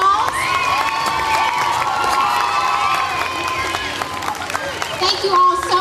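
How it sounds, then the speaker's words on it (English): At the Dyer County Fair pageant, a crowd cheers and shouts in a loud, busy wash of voices after the crowning of Miss Dyer County Fair and her court, with scattered clapping underneath. "Let's give them a huge round of applause."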